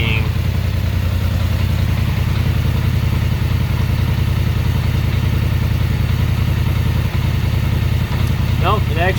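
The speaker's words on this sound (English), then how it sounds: "You hear that backfiring" A 2021 Polaris Sportsman 850 ATV engine with a throttle idle fault runs at a loud, steady idle, with a couple of brief pops near the end.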